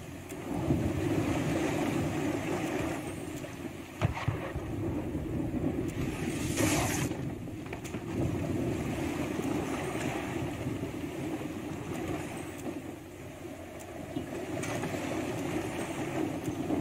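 A boat in the video game Pillars of Eternity 2 moves across water with a continuous engine drone, splashing waves and wind noise, steady throughout with a brief sharp splash midway.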